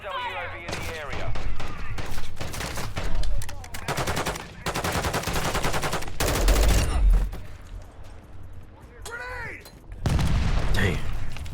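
Video game gunfire rattles in repeated bursts and single shots, loud and close, with shouted voice lines from the game mixed between the volleys.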